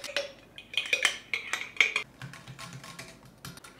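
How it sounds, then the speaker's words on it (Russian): A spoon clinks and scrapes against a bowl in quick, uneven strokes, close up, with no voices. "Йогурт хорошо перемешайте до однородной массы."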